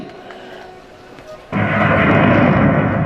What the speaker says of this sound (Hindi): जोर से बिजली कड़की